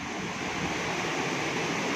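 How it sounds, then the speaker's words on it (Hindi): Water pours out of a water-powered flour mill (pan chaki) in Samahni, a constant dense rushing roar, close and loud, with no voices. "ये देखें, ये ये पानी बाहर गिर रहा है इसका।"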